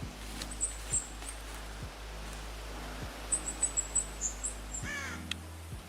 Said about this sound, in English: Never seen a crow in this game.